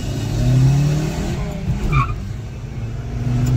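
Maruti Baleno hatchback and 1500 cc Vitara Brezza launching side by side in a drag race, engines roaring loud and close with a brief tire screech midway and steady motor drone throughout.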